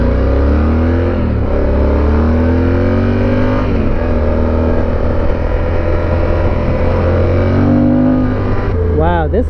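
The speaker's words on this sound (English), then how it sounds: "I hit my rev limiter" A dirt bike ridden on forest trails in Michaux State Forest, Pennsylvania, its engine droning loud and steady at high revs as it hits the rev limiter.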